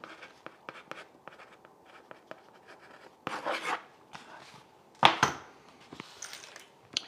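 A pen scratches out a note on a scrap of paper, quick close strokes in short bursts with a couple of louder scribbles and paper rustles, no voices.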